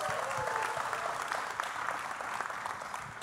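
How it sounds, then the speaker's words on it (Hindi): Sustained audience applause at a Bollywood trailer launch for Haseena Parkar, a thick, steady wash of many hands clapping with faint crowd murmur underneath, holding level for a few seconds. "जोरदार तालियां हो जाएं."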